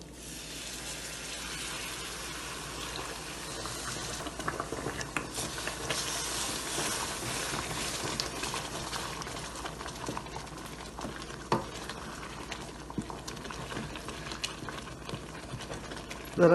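Sugar syrup is poured into cooking chana dal halwa, sending up a continuous hissing, bubbling spatter with small sharp pops, moderately loud and close, with no talking.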